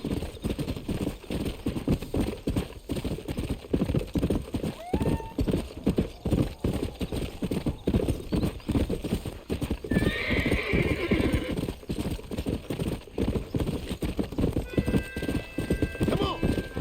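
A horse in the video game Red Dead Redemption gallops with rapid, rhythmic hoofbeats throughout, whinnying partway through, while someone talks over the steady clatter.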